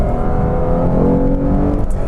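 A 2015 Lexus RC 350 F Sport's engine pulls hard under acceleration, a loud, steady rising drone with road and cabin noise throughout.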